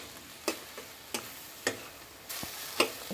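Raw turmeric, dried fish and spices are stir-fried almost dry in a pan with a splash of water, giving a faint low sizzle broken by several sharp spatula scrapes and clicks at a slow, uneven rhythm.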